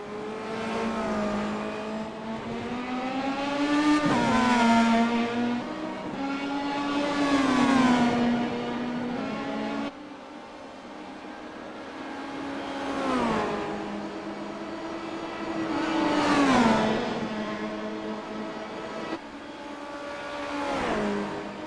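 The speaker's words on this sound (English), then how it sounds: "Poole just pulled out on them and they're side by side" Race cars battling side by side on a track, their engines wailing in rising and falling sweeps as they rev, shift and pass nearby, several overlapping pitches swelling and fading across the whole stretch.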